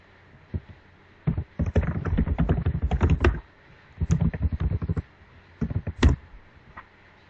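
Keys clatter in quick bursts of typing on a computer keyboard as login credentials are entered, with short pauses between runs and a few louder single key strikes, close and without voices.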